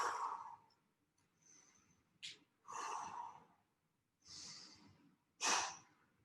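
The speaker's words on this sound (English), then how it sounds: "Inhale at the bottom, exhale up." A person exercising breathes deliberately, with several separate inhales and exhales in an uneven rhythm, close and fairly quiet, and no talking.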